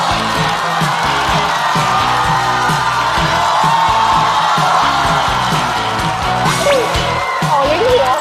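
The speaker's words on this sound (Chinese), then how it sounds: "掌声欢迎毛豆" A stand-up comedy show audience applauds and cheers as a comedian is welcomed on stage, a dense continuous wash of clapping with whoops and shouts, loud and close, with a host's voice over it and some music underneath.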